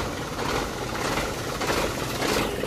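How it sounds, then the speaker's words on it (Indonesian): A freshly tuned engine runs at a steady idle nearby, giving a dense, even rumble with a fine rhythmic patter and no voices over it. "Enak banget ya suara mesinnya sekarang"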